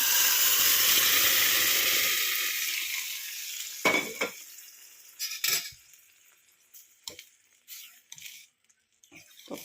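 Spices sizzle loudly in hot oil as a tempering, the crackle fading away, followed by a few sharp clinks and scrapes of a spoon in the pan.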